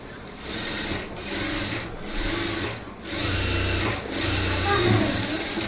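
A sewing machine runs in steady bursts while top-stitching lining cloth for Aari embroidery work, its motor whirring loudly in four or five connected runs with brief dips between them, with no voices.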